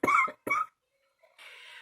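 Two quick coughs in close succession from a nearby person, followed by a short pause and then a soft rustling or breathy sound.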